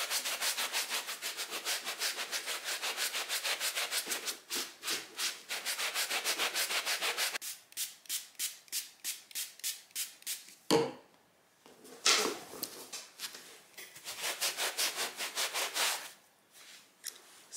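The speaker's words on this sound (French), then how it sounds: "je vais prendre mon eau micellaire et mon éponge magique et on va voir ce que ça donne." A magic eraser sponge soaked in micellar water scrubs a dirty surface in rapid back-and-forth rubbing strokes, steady bursts with brief pauses and a single sharp knock midway, close and fairly loud.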